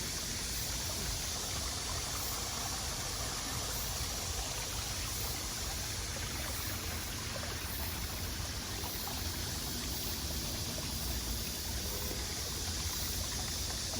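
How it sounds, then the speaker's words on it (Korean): Small waterfall formed by heavy rain pours into a stream, a steady close rushing and splashing of water that holds constant throughout with no voices. "비가 많이 와서 곳곳에 작은 폭포가 만들어졌습니다."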